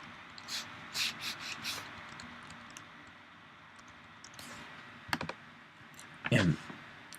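Computer keyboard keys and shortcut presses in a music notation workspace: a few quick clicks early on, then scattered sharper taps and a louder burst of clicks near the end, close and otherwise quiet.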